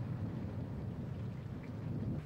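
A thunderstorm roars as a steady, dense wash of heavy rain with a low thunder rumble underneath, continuous and fairly loud without a break.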